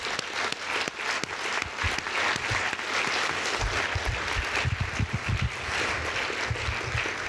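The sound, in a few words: audience applause for mayoral forum candidates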